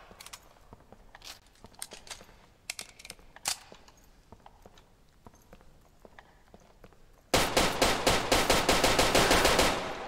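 Gunfire from a rifle fired from the hip in the tactical shooter Ground Branch: a long, loud, rapid automatic burst near the end, after scattered quiet footsteps and handling clicks.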